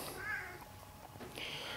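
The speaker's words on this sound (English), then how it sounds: "You got the new cat there." A house cat meows a couple of times, fairly close, over a low background hum in a workshop-like space.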